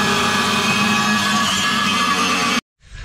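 Angle grinder cutting a metal part, a loud continuous whining roar that runs steadily for most of the clip, then cuts off abruptly before a brief quieter rustle at the end.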